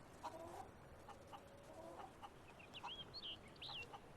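Chickens cluck in short, scattered bursts at low volume amid quiet ambient game sound in Fable 3, with faint birdlike chirps and no talking.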